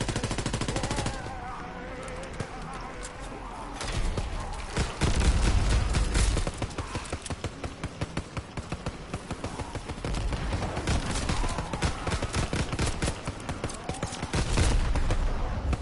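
Long bursts of rapid automatic gunfire in a zombies video game, close and steady, with a few short pauses between volleys and faint voices now and then.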